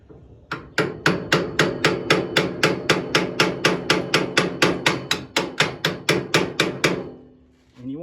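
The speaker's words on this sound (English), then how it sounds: "just give it a good tappy tap with the old hammer. I'll use a brass hammer here" Quick, evenly spaced taps of a brass hammer strike a nut on a go-kart part, about two dozen loud, ringing metallic blows in a steady run that ends abruptly.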